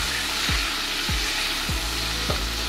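Onions for a hilsa fish curry fry in a pan with a dense, close sizzle, broken by four evenly spaced scraping strokes of a spatula; no one speaks.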